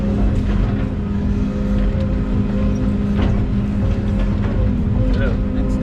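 A vehicle driving across rough property ground during land clearing, a loud, steady low engine rumble close by for the whole stretch, with light knocks and rattles over it.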